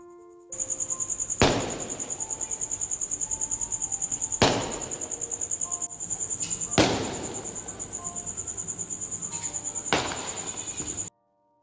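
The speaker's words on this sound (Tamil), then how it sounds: "இங்கே பட்டாசு வெடிச்சிட்டு இருக்காங்க" Firecrackers burst at a temple festival in Nepal, four sharp, loud cracks spaced a few seconds apart over a constant high-pitched shrill drone.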